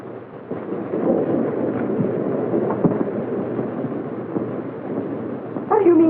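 Thunder rumbles through a scene in a 1934 feature film of Jane Eyre, a low, rolling growl sustained under the old soundtrack, with a brief rising tone entering near the end.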